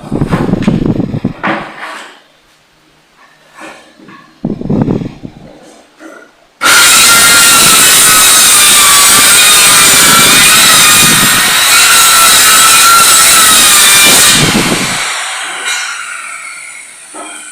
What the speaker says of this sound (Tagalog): Tapos ito po yung tabasin natin ng circular saw.